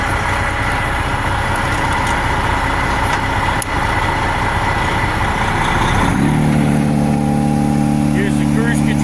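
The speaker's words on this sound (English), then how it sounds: "So we're gonna start the truck. We have to run our RPMs up to 1100" A truck engine running steadily up close, then rising into a higher, smoother tone as the revs climb toward 1100 RPM with the PTO engaged for loading a pneumatic trailer; a voice talks over the engine.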